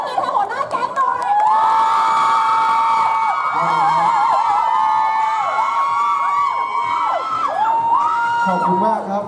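Crowd at a live mall event shouting, cheering and whooping, children's high voices prominent, loud and continuous throughout with overlapping yells.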